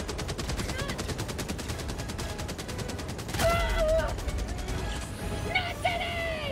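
Rapid automatic gunfire aimed at a ship in Helldivers 2 hammers steadily, a dense rattling stream of shots with a louder thump partway through, a voice speaking over it and game chirps near the end.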